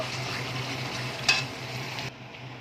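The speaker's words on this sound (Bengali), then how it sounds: "এবার আমি এর মধ্যে জল দিয়ে দেব।" Water poured into a pan of hot oil for a katla fish curry sizzles and fries steadily, with one sharp spitting burst midway before the sound drops off.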